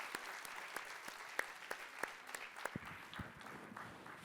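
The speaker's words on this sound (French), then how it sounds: "Oui, on peut l'applaudir." An audience at a booksellers' youth prize ceremony claps steadily, a broad wash of many hands with a few sharper claps standing out, fairly distant and soft, lasting the whole stretch.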